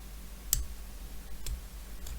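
Cutting parts off a model FDNY ladder truck turntable base: three sharp, brief snips or clicks spaced about a second apart, close and fairly quiet over a low hum.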